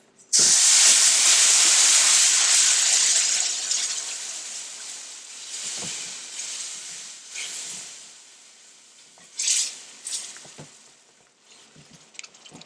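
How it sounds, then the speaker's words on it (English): A loud hissing sizzle bursts out as milk hits a hot roux in the pan, then gradually fades to a softer simmering crackle with occasional flare-ups. "we want to have our milk at the ready, because that is ready to go. And it's going to sizzle a little bit."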